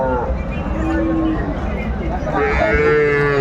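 Cattle at the Aftabganj livestock market give a loud, drawn-out moo close by, with crowd chatter and speech running underneath throughout.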